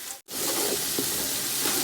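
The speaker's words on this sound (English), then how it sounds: "just add a little bit of butter into the system here while we are continue frying" Butter sizzles in a pan of frying chicken for yakhni pulao, a loud, dense crackle that drops out for a split second near the start, then resumes steadily.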